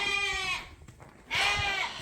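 A sheep with her lambs bleats on a farm, two wavering, drawn-out calls close by, separated by a brief pause.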